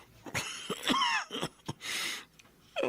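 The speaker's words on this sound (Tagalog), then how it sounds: "Nahirap na ako. Sa ubo ko." A person sick with fever coughs several times close up, harsh, strained bursts separated by short breaths and throat noises.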